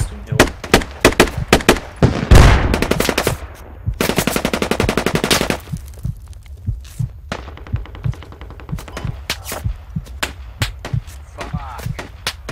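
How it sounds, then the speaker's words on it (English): Rapid automatic gunfire in the tactical shooter game Squad, with loud close bursts and sustained machine-gun strings mixed with scattered single shots and distant cracks over about twelve seconds. "Oh shit, getting shot out from somewhere behind us."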